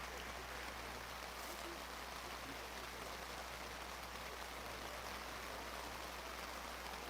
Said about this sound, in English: Once this rain passes over,